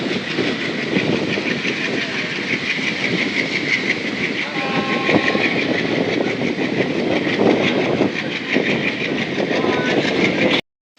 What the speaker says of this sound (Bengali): আমাদের ট্রেন এখন ছেড়ে দিয়েছে নিউ মাল জংশন থেকে